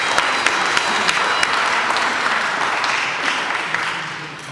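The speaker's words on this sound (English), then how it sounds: "So we give them all a clap" A congregation claps steadily in a chapel during a final vows service at Nazareth House, Hammersmith, London, the dense applause filling the room evenly and fading slightly near the end, with no voices over it.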